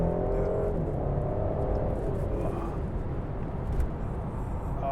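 Mercedes C400 4MATIC on Michelin Pilot Sport 5 tires cornering in second gear, a steady engine drone and road roar heard from inside the cabin, continuous and moderately loud without talk.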